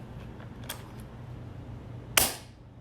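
An RA-TECH 98K airsoft rifle firing a .2 BB on green gas, one sharp, loud gas pop near the end after a few light mechanical clicks.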